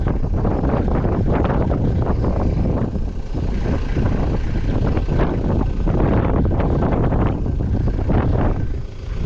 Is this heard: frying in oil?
no